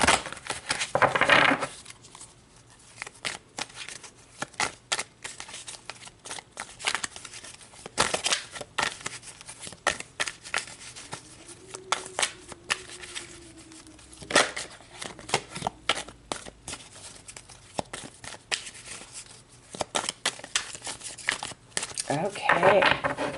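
Tarot cards shuffled and drawn from the deck: close, papery flicks and crisp riffling bursts come and go irregularly, with soft crinkling between them and a couple of louder shuffles near the start and end.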